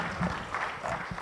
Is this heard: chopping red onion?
no